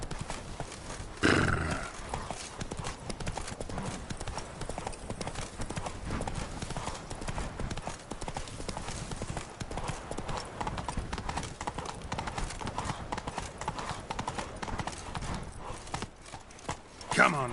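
Horse hooves clip-clop steadily in The Witcher 3: Wild Hunt (Blood and Wine expansion), mixed under game music and ambience throughout, with a louder burst of noise near the start and voices at times.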